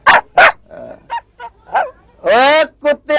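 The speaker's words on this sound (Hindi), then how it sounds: "साहे कुत्ता रो रहा" A dog whimpers and cries at night in a series of short, close whines and yelps. The cries end in a longer, drawn-out wail and a few more quick whimpers.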